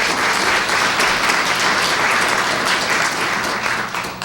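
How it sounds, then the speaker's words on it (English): A packed audience at an environmental awards event bursts into loud, sustained clapping, a thick, even roar of hands that barely varies and tapers a little at the end. "Let's give them a round of applause."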